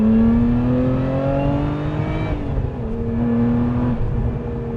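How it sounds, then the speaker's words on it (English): A Lotus Emira's 3.5L supercharged V6 with a six-speed manual revs up with a rising engine tone, eases off briefly, then builds again, sounding strong and close with no speech. "The Supercharged V6 also delivers power and makes noises in a completely different way compared to the Turbo 4."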